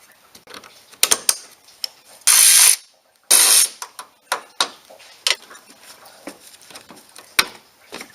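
A ratchet wrench loosens the single bolt holding the antifreeze degas bottle on a Ford Fusion, with two long bursts of fast clicking among scattered metallic taps and clunks, close up.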